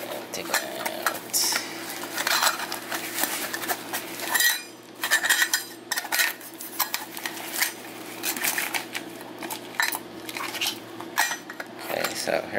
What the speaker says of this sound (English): Up next is my Snow Peak Cook It.